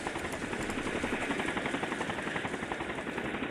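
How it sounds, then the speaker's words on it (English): Helicopter rotor whirring like a tornado as a sound effect in an audiobook, a steady dense chopping roar that holds loud and unbroken throughout with no voices. "The rotor sounded much like a tornado"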